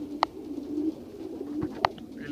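Full-blooded Fabry young pigeons coo softly in a loft under a low steady hum, with two sharp clicks standing out. No one speaks.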